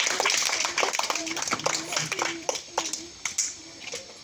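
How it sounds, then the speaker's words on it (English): Scattered hand claps patter unevenly, a small group of school children clapping somewhat out of sync after a school drama, with children's voices chattering underneath. "Clap, children."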